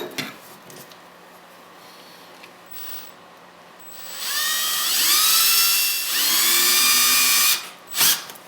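A power drill bores a small hole into a Ski-Doo snowmobile's rotary valve seal, its whine rising in pitch and running steadily for several seconds at close range, with no talk over it.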